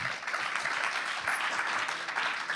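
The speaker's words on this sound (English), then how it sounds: "you definitely deserve a round of applause" Applause from a conference talk audience, a short burst of clapping with a brief whoop-like cheer in the middle, fairly loud and steady throughout.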